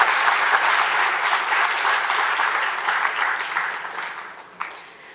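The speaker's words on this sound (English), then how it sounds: "Let's give Anish another round of applause for his incredible performance" An audience at a college graduation ceremony applauds a student's performance, a sustained crowd clapping that fills the space and gradually thins toward the end.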